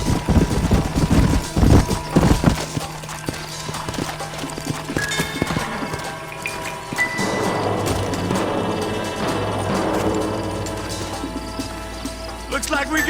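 Horses' hooves clip-clop in Red Dead Redemption, loud rapid galloping beats up front that slow and thin out, with a whinny and clattering impacts mixed in, then a quieter stretch under background game sound.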